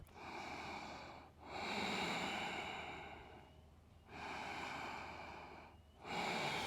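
Slow, deep breaths during a yoga pose, close to the microphone: long airy inhales and exhales in a steady cycle of roughly three, with brief quiet gaps between them.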